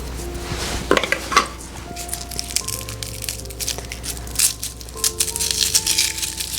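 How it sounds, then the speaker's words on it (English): Homegrown garlic cloves are crushed with a knife on a kitchen surface, producing irregular cracks, crunches and clatters of metal against the board. The sounds are close and uneven and come in bursts, with no talking. "when they smash it with a knife, so I know I have to do that with the cloves"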